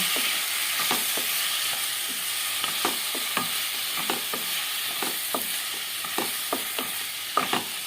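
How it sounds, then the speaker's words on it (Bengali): Tangra fish curry with Kashmiri chili powder is stirred in a hot pan, a constant sizzling hiss punctuated by irregular scraping and tapping strokes of a spoon, close and with no voices. "এবার একটু ভালো করে নাড়িয়ে চাড়িয়ে নিচ্ছি"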